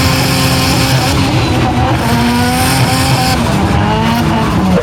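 A freshly rebuilt turbocharged engine in a small engine bay roars loudly and steadily, its pitch sweeping up and down like a race car, with brief tire-squeal tones riding over the constant drone.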